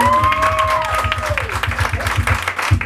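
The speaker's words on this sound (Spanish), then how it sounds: "Aplauso para la quinceañera" Applause and crowd noise for a quinceañera at a party with a youth mariachi band, steady clapping with sustained tones and voices mixed in, fairly loud.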